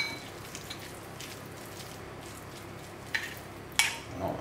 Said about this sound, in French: On commence à mélanger.